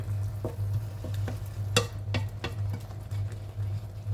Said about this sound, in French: Il faut bien mélanger la tomate